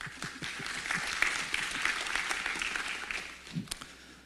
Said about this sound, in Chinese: 我们掌声欢迎叶总经理特助